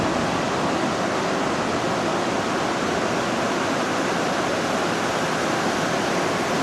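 Steady, broad rushing surf washes over a beach, loud and continuous with no voices.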